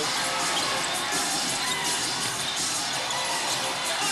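A dense basketball arena crowd of Barangay Ginebra fans roars and cheers in a steady wash of noise, with no break across the whole stretch.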